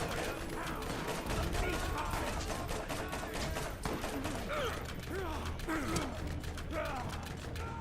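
Rapid gunfire crackles in the Borderlands game as a quick, dense string of sharp shots, with mechanical clatter and a few whistling tones layered over it, fairly close and steady throughout.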